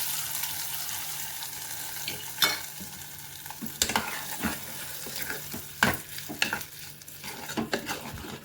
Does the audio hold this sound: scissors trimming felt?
no